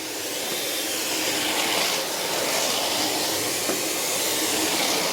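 Miele Duoflex HX1 cordless stick vacuum running on regular suction without boost, a steady loud broadband whir and hiss that holds even throughout, with no talking.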